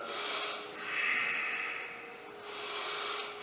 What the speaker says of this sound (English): Holding there and taking a deep breath.